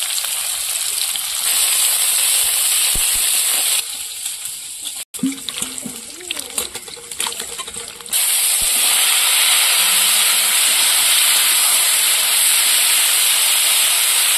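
Panch phoron spices and chopped onion sizzle loudly in a pan with a bright, hissing steam sound. Midway it drops to quieter crackles and thuds for a few seconds, then the strong sizzle returns.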